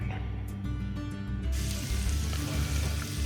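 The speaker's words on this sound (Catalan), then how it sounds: "Comencem aquest arròs sofregint la sípia durant uns 10 minuts" Cuttlefish sizzles in oil in a pan at the start of a rice dish, a steady close frying hiss that grows suddenly brighter and louder partway through, with faint clinks of stirring.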